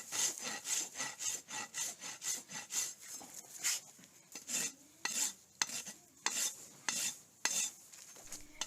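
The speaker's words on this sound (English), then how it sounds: "I'm going to switch hands, turn my rasp so that I pull it toward myself" A farrier's rasp pulls in long, steady strokes across a horse's hoof while beveling the edge, each scraping pass rhythmic and close, repeating about a dozen times with short pauses between.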